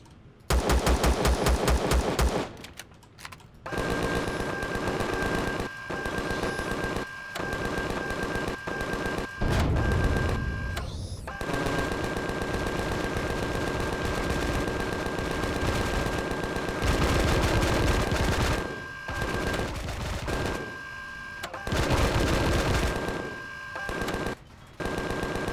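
Turret gunfire in the game Empyrion Galactic Survival, loud sustained rapid machine-gun bursts broken by brief pauses, with a constant whine under the shots.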